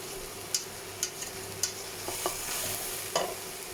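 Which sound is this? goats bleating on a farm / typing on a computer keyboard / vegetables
vegetables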